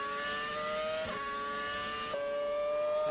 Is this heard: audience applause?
no